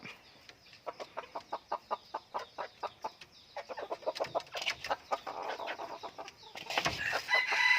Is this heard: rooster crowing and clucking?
yes